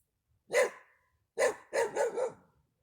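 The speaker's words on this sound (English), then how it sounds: "Oh, there's a doggy barking at me." A dog barks four times, one sharp bark followed after a pause by three quick barks in a row, fairly close and clear with nothing else around.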